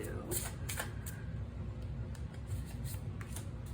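Tarot cards shuffled by hand in a steady, soft riffling rhythm, with a few sharper card snaps standing out, heard close and alone without any talking.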